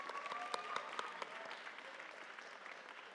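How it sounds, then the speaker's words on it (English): A moderately distant audience claps steadily at a graduate honors award ceremony for Black culture at Duke University, with a few sharper individual claps standing out and the sound tapering off slightly toward the end. "y'all feel free to clap, we here to celebrate"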